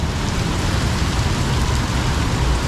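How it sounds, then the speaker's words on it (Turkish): Heavy tropical rain pours down in Kuala Lumpur, Malaysia, a dense, steady roar of downpour filling the whole stretch with no pauses and no voices. "İlk defa görüyorum Malezya'da bu kadar yağmur."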